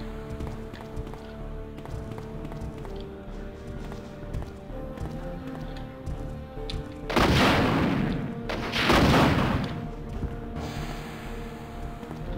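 Two bursts of gunfire in the survival horror game Resident Evil 2, loud and noisy shots about two seconds apart cutting through tense background music.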